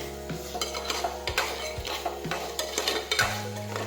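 Ridge gourd curry being stirred in a pan, a spoon scraping and clinking against the metal in a steady rhythm of close strokes over a faint sizzle.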